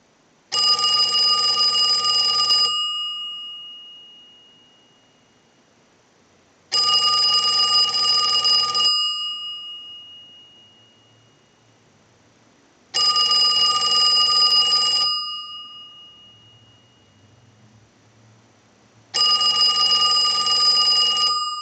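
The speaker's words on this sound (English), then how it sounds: "send a ring cycle like you were getting a call" A Western Electric 2554 wall telephone ringer rings four times, each ring lasting about two seconds with long quiet gaps between, clear and close with no talking.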